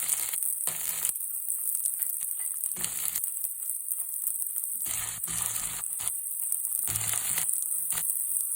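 Onions dropped into a hot pan of oil sizzle in repeated bursts of hissing crackle that rise and fall, separated by quieter gaps.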